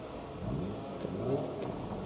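A low, steady engine-like hum with a slight swell, the synthetic motor sound of a 2024 Hyundai Ioniq 5 N in N mode, playing at moderate volume.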